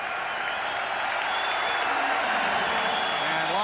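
Stadium crowd at a 1991 NFL game between the New York Jets and Detroit Lions, a broad sustained roar of cheering and applause as a player leaves the field, steady and fairly loud throughout.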